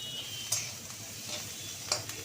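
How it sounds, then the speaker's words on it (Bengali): Onion, capsicum, ginger and green chilli frying lightly in butter for Hyderabadi paneer, giving a soft, steady sizzle with a few sharp clicks of a stirring spoon against the pan. "তবে হালকা করে ভাজছি এটাকে।"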